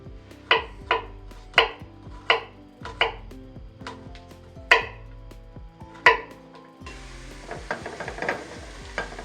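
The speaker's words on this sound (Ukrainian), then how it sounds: "Тим часом і наріжу чесничок" Garlic being chopped with a knife on a board, about a dozen crisp, close knocks in an uneven rhythm over a background of oil gently sizzling in a pan, with the sizzle swelling louder near the end.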